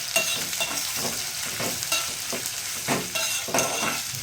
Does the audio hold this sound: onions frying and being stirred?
yes